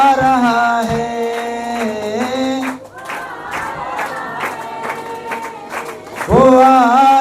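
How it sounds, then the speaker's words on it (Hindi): Congregation members clap their hands in a steady rhythm throughout, mixed under loud worship singing in a church service. "खुदावन के लोगों तालियां बजाओ"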